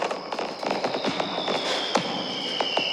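Fireworks crackle and bang in quick irregular bursts over a steady hiss, with a long whistling rocket gliding downward through the middle, at a fireworks display in a Thomas the Tank Engine story.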